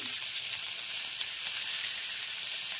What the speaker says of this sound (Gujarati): આમાંથી સંભારો વઘારવાનું કામ ચાલુ છે કાચો સંભારો આવી રીતે સંભારો વઘારે